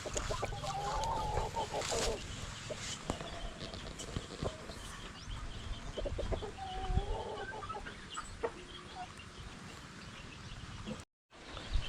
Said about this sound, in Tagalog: Pare, native chicken.